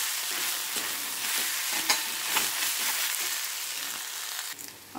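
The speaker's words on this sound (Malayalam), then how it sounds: "എന്നിട്ട് നന്നായിട്ട് നമുക്കിതിന് ഫ്രൈ ചെയ്തെടുക്കാം" Ivy gourd (kovakka) pieces fry with rasam powder in a pan, giving a steady close sizzle with intermittent scraping stirs throughout, no voices.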